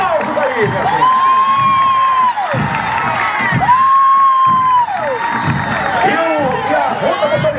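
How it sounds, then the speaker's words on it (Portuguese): A parade crowd claps and cheers for passing military police units, including special operations and motorized patrol squads, at an Independence Day celebration in Duque de Caxias, Brazil; steady loud applause and shouting with whistle-like tones and an announcer talking over it. "Demais, os aplausos aí, minha gente."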